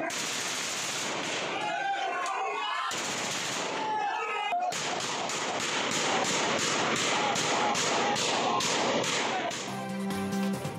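Rapid gunfire crackles continuously at a street gathering after a Lahore Bar Association election, loud bursts of shots, some in quick machine-gun-like strings, with crowd noise underneath.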